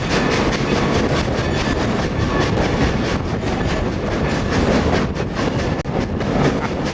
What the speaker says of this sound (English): riding on a flat car behind a locomotive as it's going through a tunnel